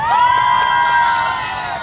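A concert crowd at a Jante Bakhro film event cheers and whoops loudly and steadily, with high excited voices layered over the roar of the audience.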